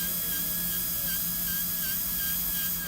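Dental handpiece with a light orange polishing tool smoothing a CEREC crown, giving a steady high-pitched whine with faint tonal wavering, continuous and close throughout.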